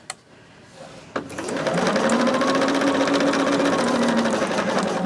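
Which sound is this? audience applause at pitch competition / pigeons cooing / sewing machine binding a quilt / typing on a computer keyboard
sewing machine binding a quilt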